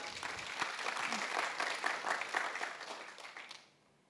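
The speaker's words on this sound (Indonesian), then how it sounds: "Tepuk tangan untuk Tuhan." A church congregation at a Sunday service in Manado applauds in a dense, steady wash of clapping that carries on for several seconds, then drops off quickly near the end.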